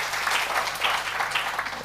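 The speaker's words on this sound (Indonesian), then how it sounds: "Sekali lagi kita berikan tepuk tangan buat Allah kita" A church congregation claps together in a brief burst of applause, a dense patter of many hands that stays fairly even throughout.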